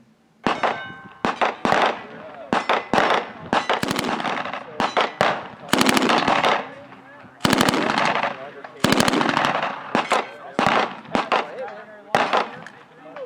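Gunshots on a timed shooting obstacle course, loud sharp reports in quick strings and rapid bursts with short pauses between groups, some ringing metallic clangs from struck steel targets.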